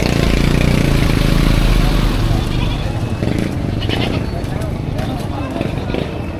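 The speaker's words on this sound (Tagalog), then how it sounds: "Dalawang kambing." Goats bleat repeatedly amid the crowded bustle of a Philippine livestock market trading cattle, goats and carabao, with people talking throughout and a low engine hum underneath.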